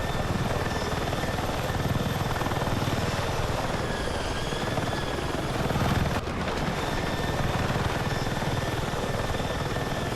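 Helicopter rotor and engine from the video game Battlefield 6, a loud, steady whirring drone that holds for about ten seconds with one brief dip partway through.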